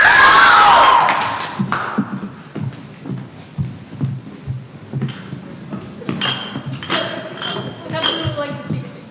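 A high school stage cast cheers for Captain Smollett in a Treasure Island drama club production, a loud burst of shouting voices at the start fading into clinking and scattered chatter on stage.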